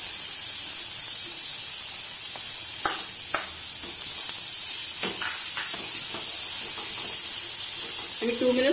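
Ridge gourd peel frying in a pan gives a steady hiss and sizzle, broken by a few short clatters of stirring, with a brief voice near the end.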